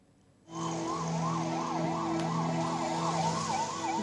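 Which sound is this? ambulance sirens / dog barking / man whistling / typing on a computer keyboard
ambulance sirens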